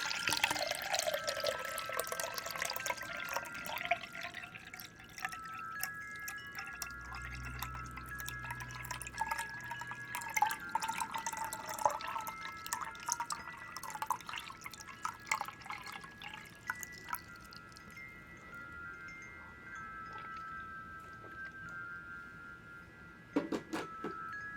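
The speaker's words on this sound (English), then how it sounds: "Let's do some water sounds on the way." Water drips and trickles, with scattered close droplets and splashes over a thin running flow, a brief low rumble partway through and a faint tonal hum throughout, unhurried and fairly soft, with no voices.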